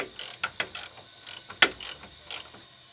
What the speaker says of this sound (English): Now we are going to loosen those bolts at the rear that I showed you before.